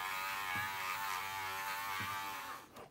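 A rotary buffing wheel spins at low speed against the clear canopy of a Revell 1/48 F-15E model kit, giving a steady close whirring buzz with faint harmonic hum that runs throughout and cuts off near the end.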